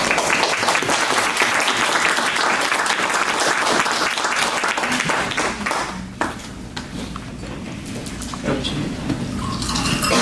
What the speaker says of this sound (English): Give him big applause.